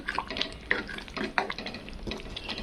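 Ginger frying in a pan for chana dal kadhi gravy: soft, close sizzle with repeated scraping and stirring clicks of a utensil against the pan, fairly quiet and irregular throughout.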